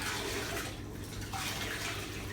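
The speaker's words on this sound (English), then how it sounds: "you're just going to put it in the bucket and spin it like this. And then you wring it out" A wet mop spun and wrung out in a bucket while cleaning hardwood floors, giving a steady close rush of sloshing, draining water that dips briefly midway.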